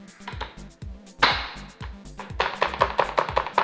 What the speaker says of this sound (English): I'm going to use 2 small shallots like this and 1 garlic. We slice them first.